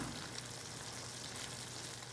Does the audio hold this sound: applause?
no